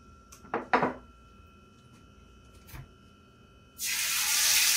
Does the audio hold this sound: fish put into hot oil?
yes